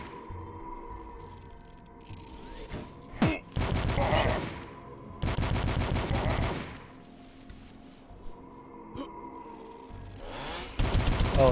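Hunting rifle shots boom in the retro shooter game Dusk, several loud, close blasts spaced a second or two apart, each with a ringing tail, amid mechanical clicks and ambient hum.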